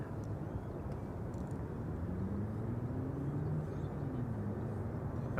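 LATAM airliner taxiing at Amsterdam Schiphol Airport, a steady low jet engine rumble with a faint rising whine, continuous and moderately distant, no voices over it.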